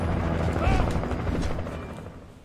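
A helicopter in the video game Alan Wake Remastered, its steady low rotor thrum filling the scene at close range, with a brief whooshing swell in the middle and game effects layered around it.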